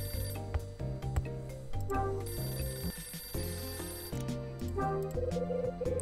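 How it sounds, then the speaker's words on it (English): An electronic telephone ring in the video game Hotel Dusk: Room 215 repeats in steady bursts over layered in-game music, fairly loud and close throughout. "The phone's ringing."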